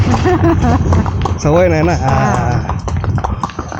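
A horse ridden at Matheran clip-clops steadily beneath a rider's close, continuous talk.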